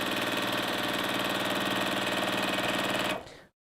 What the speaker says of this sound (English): Oh, it sounds like it's sewing now, and there are the stitches.